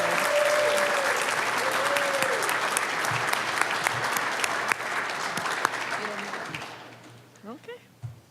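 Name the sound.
audience applause at graduation ceremony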